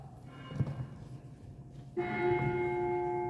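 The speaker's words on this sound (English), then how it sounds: "the bell struck 12" A church bell tolling in an open town square, a single low stroke early on followed by a stronger ringing strike whose bright overtones linger and sustain to the end.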